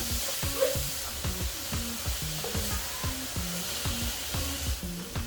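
Squid stir-frying over strong heat sizzles steadily, with repeated scraping strokes of a spatula against the pan in a loose rhythm, close and fairly loud, with no talking.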